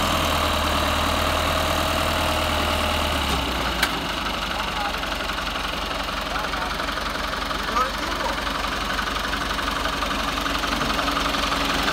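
John Deere 2030 tractor engine idling and running steadily nearby at a farm hay-baling job, a constant low rumble for the whole stretch with a brief click midway.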